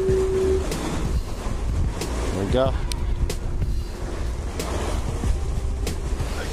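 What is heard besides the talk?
ocean waves and wind at the shore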